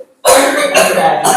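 A person coughs on purpose, close and loud: a couple of harsh, throaty bursts that come right after a moment of silence.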